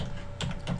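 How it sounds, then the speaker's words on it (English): A couple of quick keystrokes on a computer keyboard, soft close clicks over a quiet room hum. "and I would just type there"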